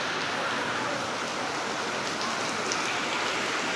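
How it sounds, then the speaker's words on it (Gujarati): A heavy downpour drums steadily on nearby surfaces outside shops, a dense even roar of rain with no gaps and no one talking. "ધોધમાર વરસાદ શરૂ થઈ ગયો છે અને અમે અહીંયા ફસાઈ ગયા છે"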